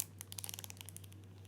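A water-filled plastic baggie is pressed shut, giving a quick series of faint crinkling clicks and rustles, close and quiet, with no voices.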